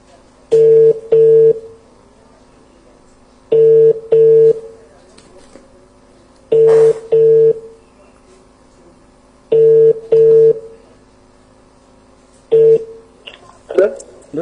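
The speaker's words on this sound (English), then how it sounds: "Oh, it's ringing." A telephone ringback tone repeats in paired bursts at steady intervals, clear and close, with a brief rustle near the end.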